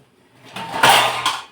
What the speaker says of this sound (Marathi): झाकण ठेवू शकता यावरती